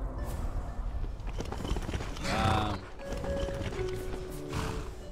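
Horse hooves clip-clop in the fantasy video game Skyrim, a steady walking rhythm of hoofbeats over ambient game sound with a brief neigh-like swell in the middle.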